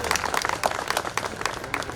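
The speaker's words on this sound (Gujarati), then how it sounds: "મુરબ્બી અમૃત કાકાને આપણે સૌ તાળીઓના ગડગડાટથી વધાવી લઈશું" An audience at a community gathering claps in a dense burst of applause, many hands close together, with a few voices under it.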